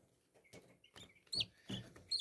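Young chicks peck and walk around a small feeder, with faint soft taps and bright chirps and peeps rising near the end.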